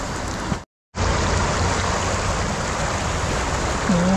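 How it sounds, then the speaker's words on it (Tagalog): Floodwater rushing in a swelling stream during a fishing trip makes a loud, continuous broadband roar, broken by one brief dropout near the start. "Lumalakas na lumalakas yung tubig."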